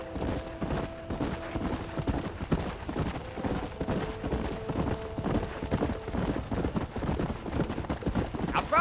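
Horse hooves trot in a steady clip-clop rhythm in the video game Red Dead Redemption, close and continuous, with creaking tack, a brief whinny-like tone and background music and voices mixed in.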